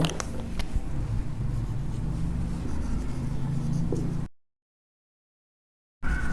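A ratio is written out by hand during a chemistry lesson, producing a faint continuous scratching of writing over a low steady background before the sound cuts off into silence.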